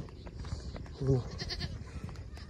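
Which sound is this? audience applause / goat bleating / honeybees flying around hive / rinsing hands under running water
goat bleating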